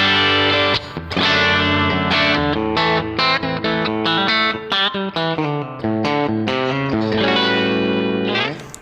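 Crunchy, overdriven electric guitar chords and single notes ringing out through a Mesa Boogie Mark V 35 tube amp, played steadily with a gritty, warm edge and no talking.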